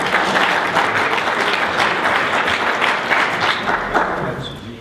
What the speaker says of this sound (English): Since we got applause on that,